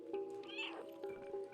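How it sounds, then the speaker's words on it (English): A cat in the video game Stray meows a couple of times, close and fairly quiet, short high-pitched calls with a gap between them. "You can hear the little meows."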